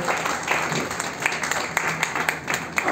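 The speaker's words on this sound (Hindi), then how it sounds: "क्यों न जोरदार तालियां हो जाए" An audience at a book launch claps for a poet, a dense, steady wash of applause that lasts the whole stretch at moderate loudness, with no speech over it.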